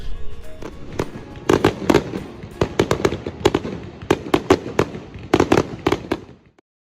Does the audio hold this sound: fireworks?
yes